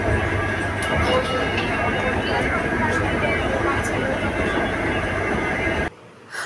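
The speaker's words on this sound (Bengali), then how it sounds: "তো উঠে পড়েছি মেট্রোতে" Onboard a moving metro train, a loud steady rumble and wheel roar fills the carriage, with a voice speaking over it before the noise drops sharply near the end.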